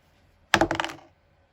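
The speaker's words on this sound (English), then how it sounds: "Roll the dice." Dice rolled onto a surface give a sudden bright clatter of quick rattling hits that settles within half a second, alone in near silence.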